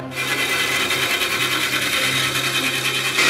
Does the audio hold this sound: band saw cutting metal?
yes